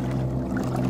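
Wake from a passing power boat sloshing against a kayak on a lake, a brief low rushing wash of water, close and fairly loud.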